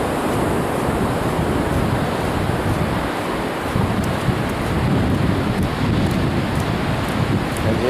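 Surf rolling onto a beach near Manglar Alto, Ecuador, loud and continuous wave wash mixed with strong wind rumble against the microphone, with no voices.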